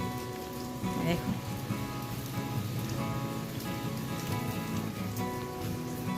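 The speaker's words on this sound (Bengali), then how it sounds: "তো দেখছো এখনো হাওয়া দিচ্ছে, বৃষ্টি পড়ছে" Steady rain and gusting wind from Cyclone Remal outside a house window on a residential street, a continuous dense wash of falling water with no breaks and no voices.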